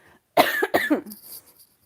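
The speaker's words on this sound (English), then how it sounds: "sorry, I'm going to cough again" A couple of sharp, close coughs in quick succession, then quiet.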